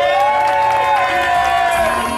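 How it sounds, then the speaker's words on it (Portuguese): An audience cheers and applauds for Grandma Maria at a heartfelt tribute in São Paulo's Horto Florestal, a loud, steady wall of clapping and shouts with whoops and excited voices rising over it, continuing without a break. "Palmas pra Vó Maria, galera."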